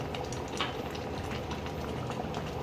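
Coconut pomfret curry simmering in a pan, giving a steady, close bubbling and soft gurgle that runs unbroken throughout, with no talking.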